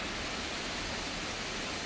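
A hidden waterfall in the autumn Michigan woods rushes steadily, a faint, even broadband hiss of falling water heard from a distance with no voices over it.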